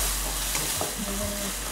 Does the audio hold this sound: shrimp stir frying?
yes